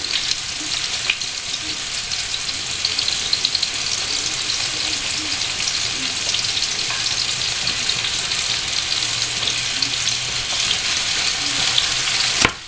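Steady, dense sizzling of food frying in a hot pan, loud and continuous throughout with a constant crackling hiss.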